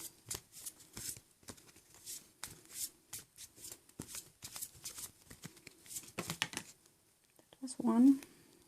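Past life oracle cards being shuffled by hand, a rapid run of crisp riffling bursts and soft slaps in irregular rhythm, close and fairly quiet, ending with a louder hand movement.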